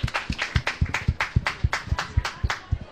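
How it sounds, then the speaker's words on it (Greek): A small audience claps at a radio Christmas concert, a steady run of distinct, evenly spaced claps that sounds close and thin, like only a few people applauding. "Ένα χειροκρότημα!"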